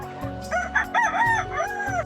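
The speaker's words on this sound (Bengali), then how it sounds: "দেখুন বন্ধুরা, আমার কাছে কতগুলি এখন মুরগি আছে।" Chickens at a poultry farm cluck and a rooster crows loudly nearby, the drawn-out crow rising and falling over a steady low background of birds.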